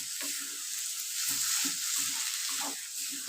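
Boiled peas sauté with spices in a pan, giving a soft, steady sizzle. Faint scraping stir sounds come through in short bursts.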